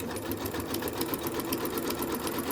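A sewing machine stitches a towel with a fast, even mechanical rattle, close and steady throughout with no pauses.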